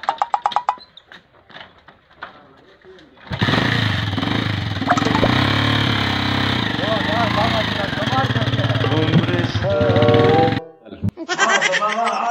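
A motorcycle engine roars steadily for several seconds at close range, rising to a loud drone before cutting off, with bits of voices before and after.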